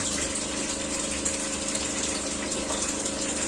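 A water pump powered by a Grad 3 kW generator runs with a steady mechanical hum and rushing, gushing water, constant and moderately loud throughout.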